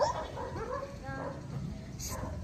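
A small dog whimpers and yips in short bursts close by, with people talking over it.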